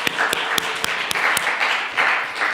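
A church youth congregation applauds during a Sunday worship service, producing dense, continuous clapping with a few sharper individual claps standing out near the start.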